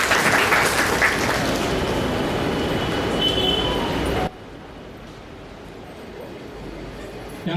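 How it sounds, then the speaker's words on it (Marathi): An audience at a Sant Rohidas Jayanti gathering applauds loudly, a dense burst of clapping that lasts about four seconds and then cuts off abruptly to quiet room noise. "तर आपण जोरदार टाळ्या वाजवूया त्यांच्यासाठी."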